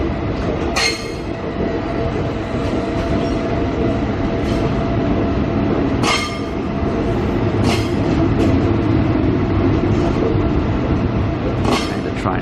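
Passenger train in Brisbane rolling in to terminate at platform 10, its wheels rumbling loud and steady throughout, with sharp clicks and squeals from the rails repeating every couple of seconds.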